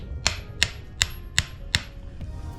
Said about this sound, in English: So just gonna hammer it down.